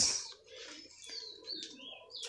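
A colony of budgerigars chirps and twitters in short bursts with soft cooing underneath, a busy cluster of calls close by with no talking.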